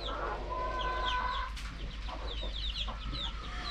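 Several chickens cluck and chatter nearby, with short overlapping calls against a steady low background hum.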